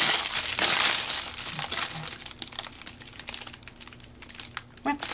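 Crinkly fabric paper on rolls being handled, a dense rustling and crackling that is loud and close at first, then thins into scattered small crinkles and taps with no talking.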